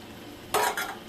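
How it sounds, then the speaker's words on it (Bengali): Chopped onions in oil in a wok get a quick stir, making one short scraping, sizzling burst close up against a quiet background. "এখন পেঁয়াজগুলো ভালো করে ভেজে নিব, তো নাড়াচাড়া দিয়ে নিই।"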